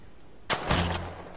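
Video game Fog of War: a sharp gunshot, quickly followed by a second heavier blast that trails into a low rumble, then fades.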